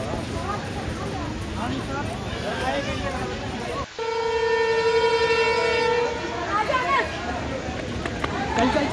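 At Lahore Railway Station, a train sounds a long, loud steady horn blast over the busy platform bustle, with people talking throughout amid rumbling train noise.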